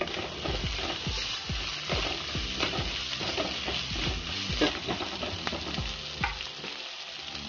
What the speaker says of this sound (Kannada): ಚಿಲ್ಲಿ, ನೀರುಳ್ಳಿ, ನೀರುಳ್ಳಿ ಫ್ರೈ ಆಗಲಿ ಮೊದಲು.